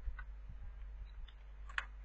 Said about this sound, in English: this way I'm just typing here